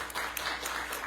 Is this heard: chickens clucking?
no